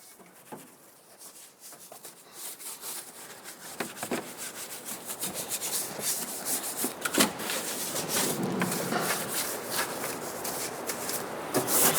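An older wheel brush scrubs over the larger areas of a car engine bay, making continuous close bristle rubbing and scratching that grows louder and busier as the strokes speed up, with no talk.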